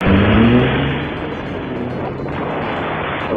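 A Vespa GTS300 scooter and a red Jaguar F-Type pull away from a traffic light together, making a loud, close, roaring engine surge that eases into a sustained drone with rushing wind.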